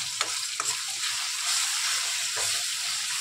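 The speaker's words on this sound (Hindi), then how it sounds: "तो आप देख सकते हैं जो मसाले हैं वो अच्छे से हमारे तेल छोड़ रहे हैं" Spices fry in oil in a pan, giving a steady sizzle with a few spoon scrapes and stirring strokes, close and moderately loud, with nobody speaking.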